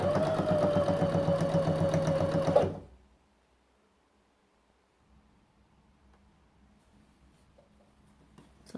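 A sewing machine stitches a round neckline seam in a fast, steady mechanical whir for under three seconds, then stops abruptly, leaving near silence with faint handling noises.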